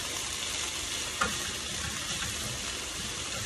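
Pork fried rice being stirred in a frying pan, with a steady, dense sizzle running throughout and a light scrape of the spatula partway through; close and continuous, without voices.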